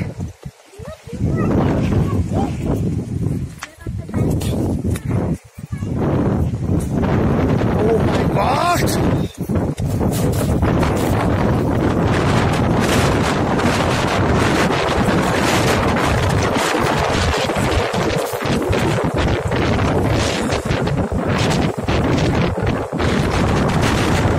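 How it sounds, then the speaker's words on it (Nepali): Strong wind blasts through a village, roaring and buffeting the microphone loudly and almost without pause, while people's voices come through underneath. "यस्तो हावा छ नाउ"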